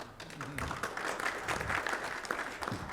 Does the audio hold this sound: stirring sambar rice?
no